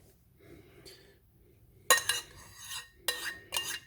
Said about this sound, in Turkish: Şimdi salatamın üzerine yaptığım bu müthiş sostan ilave edeceğim.